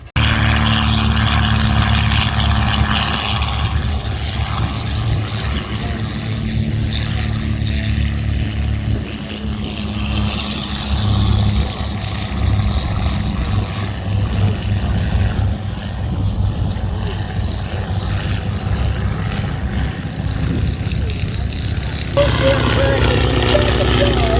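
A loud, continuous droning roar of a propeller airplane's twin Pratt & Whitney R-2800 radial engines, 2,000 horsepower each, steady and close throughout, with a brief shift near the end.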